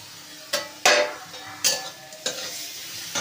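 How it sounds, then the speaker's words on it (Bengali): Spices tipped into fried onions in a pan, with several sharp bursts of sizzling and stirring, a spoon scraping and clinking against the pan between quieter frying hiss, no talk. "পেঁয়াজটা ভাজা হয়ে গেছে, এবার সব মশলা একসাথে দিয়ে দেবো।"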